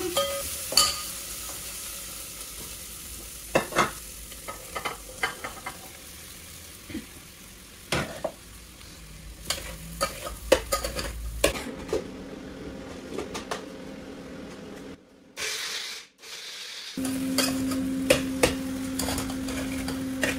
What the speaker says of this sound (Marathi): साबुदाणे टाकायचे आणि थोडं परतून मग वरून परत शेंगदाण्याचा कूट आणि हलवून घ्यायचं